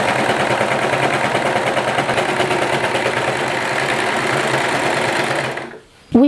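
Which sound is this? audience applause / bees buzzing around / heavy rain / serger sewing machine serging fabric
serger sewing machine serging fabric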